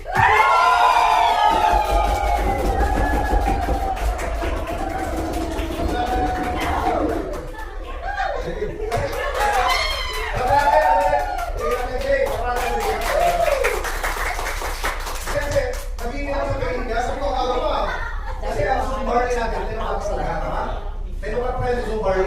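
Audience clapping and cheering greeting a training director called on stage at a motivational event, a dense sustained wash of applause with shouts and laughter, loud and close, mixed with voices throughout.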